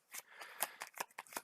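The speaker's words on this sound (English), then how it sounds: "we have to shuffle our player deck." A deck of playing cards is shuffled during a Marvel card game: a quick, quiet run of crisp riffling snaps and brushes, several short bursts in close succession, with no talking.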